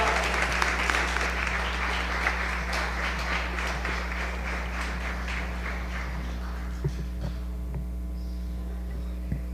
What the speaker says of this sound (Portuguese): Aplauda ao Senhor, irmãos.